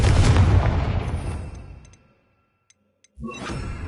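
A Confringo blast spell from the Hogwarts Legacy game goes off with a loud booming burst that rolls away and decays over two seconds, followed by near silence and a few faint ticks before another sound begins.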